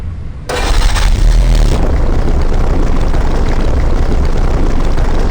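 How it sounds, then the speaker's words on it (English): A boat's port side engine runs in the Grim Fandango Remastered video game, a steady loud droning rumble that kicks in after a brief quiet start and holds evenly throughout. "That's the throttle for the port side engine."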